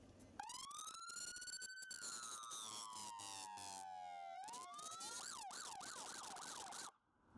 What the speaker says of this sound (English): Ready for the siren? Yeah, cut it on.